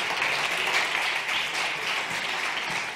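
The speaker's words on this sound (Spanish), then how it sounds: "Un aplauso para él" Steady audience applause at a Madrid forum on inclusive employment and entrepreneurship, a dense, even wash of many hands clapping throughout, fairly close and loud with no voices over it.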